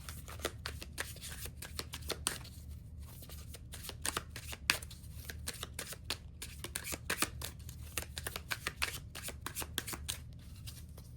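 A deck of tarot cards is shuffled by hand in a quiet room, giving a continuous close run of soft riffling slaps and flicks.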